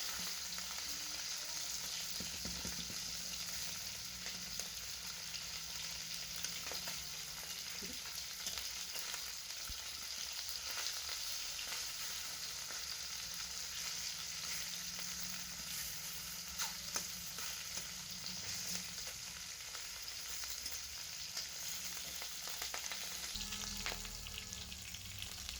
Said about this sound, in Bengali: দেখুন বন্ধুরা, ঢাকনা খুলে মাছগুলো আবার উল্টে দিচ্ছি। এক পাশ তো ভালো হয়ে ভাজা হয়ে গিয়েছে,